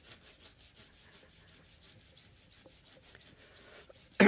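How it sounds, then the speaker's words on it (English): Frets on a 1978 Guild D-50 acoustic guitar are buffed by hand, producing a soft rhythmic rubbing, steady back-and-forth strokes close up and quiet, ending with a brief sharp knock. "At this point, we're already buffing."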